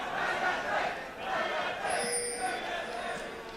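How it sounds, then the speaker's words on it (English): An esports arena crowd cheers and yells for Fnatic during a League of Legends EU LCS playoff semifinal, a broad roar of many voices swelling and easing in waves, with clinks and faint sounds mixed in. "the crowd yelling for Fnatic"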